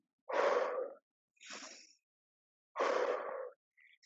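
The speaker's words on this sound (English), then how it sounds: "Open mouth, exhale on the lift." Sharp exhaled breaths during squat exercises, three forceful puffs spaced a second or more apart with near silence between, close and clear, with a faint short sound at the end.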